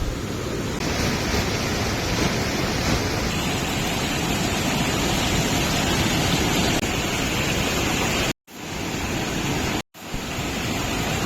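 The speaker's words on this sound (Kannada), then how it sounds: "ಅಲ್ಲಿ ನೀರು ಜಾಸ್ತಿ ಬೀಳ್ತಾ ಇರುತ್ತೆ" Water rushing steadily at a hidden waterfall in Honnavar: a loud, continuous broadband roar close by, with two brief dropouts near the end.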